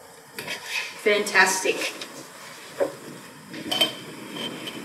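Onions and cucumbers are packed into a glass pickling jar, giving scattered clinks and knocks of produce against glass, with a person talking over it.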